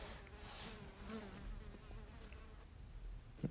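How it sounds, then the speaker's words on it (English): A housefly hums softly and steadily nearby, a faint continuous buzz ending in a brief louder tap. "just hear this fly."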